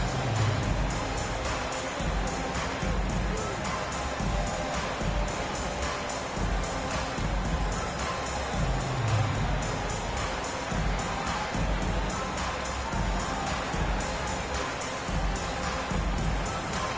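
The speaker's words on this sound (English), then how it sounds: "Please give a big round of applause for your dance team" A crowd at a basketball game cheers and applauds for the home dance team during a timeout. A continuous loud roar of voices and clapping fills the arena, with no break.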